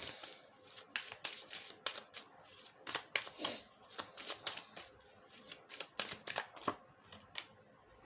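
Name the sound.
playing cards being shuffled and drawn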